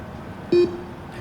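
A single short electronic beep test warning signal during a football team's fitness test rings out clearly, briefly holding a steady tone, with faint background noise before and after.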